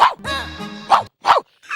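A man imitates a dog with a few loud, close barks and a drawn-out yelp, in short bursts separated by brief silences.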